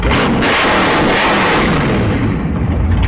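A nitrous-equipped Camaro drag car revs hard at a drag strip, a loud, continuous roaring engine with rising and falling pitch filling the whole stretch, close and dominant.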